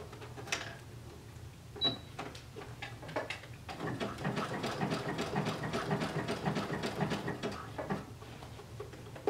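Sewing machine running a narrow zigzag stitch along flat elastic on a stretch pencil skirt waistband, a few starting clicks and then a steady rapid mechanical whir and needle chatter, close and alone.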